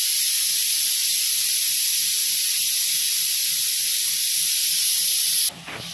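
Grated carrot and beetroot with cardamom sautéing in a pan, giving a steady, even sizzling hiss that runs throughout and cuts off sharply near the end.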